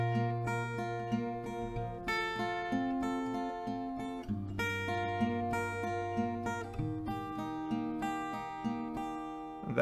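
Acoustic guitar strums chorus chords from a song, each chord ringing out clearly and changing every couple of seconds, played alone with no voices.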